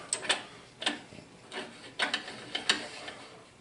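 A hand ratchet cranked on engine heads: short bursts of metallic clicking pawl ratchets, about half a dozen separate strokes at an uneven pace, close and clear with no talk.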